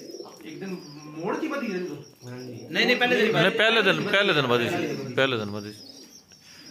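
Domestic pigeons in a rooftop loft coo in soft, low murmurs throughout, mixed with chirps and heard beneath steady close conversation between men.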